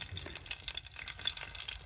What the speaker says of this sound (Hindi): अदरक का तड़का, और अब इसमें डालेंगे हम प्याज, टमाटर